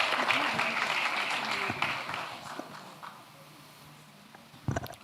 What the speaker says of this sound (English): A huge round of applause, ladies and gentlemen.